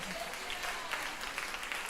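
Church congregation clapping along at a Christian prayer service, a dense, steady wash of applause filling the short moment.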